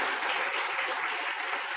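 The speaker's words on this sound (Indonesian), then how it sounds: "Tepuk tangan buat Anda semua ya." Audience applause at an Indonesian motivational seminar, a steady, fairly soft spread of many hands clapping without pause and no voices on top.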